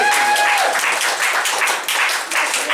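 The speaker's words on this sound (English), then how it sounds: "can we have a round of applause for Seb, please?" A room full of people at a talk event gives a speaker a round of applause, loud and close, with dense clapping that surges and dips slightly throughout.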